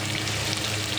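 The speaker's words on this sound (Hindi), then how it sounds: "थोड़ा सा पानी डाल के इसको भूनेंगे हल्का सा।" Masala for chicken karela frying in a pan with a little water, a dense continuous close sizzle that stays steady and loud throughout, with no voices.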